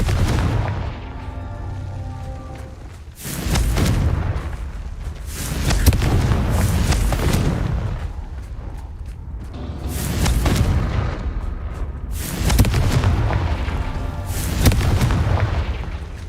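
Confringo fire-blast spell in the video game Hogwarts Legacy, repeated booming explosions every few seconds with heavy low rumbles and crackling tails, loud and close.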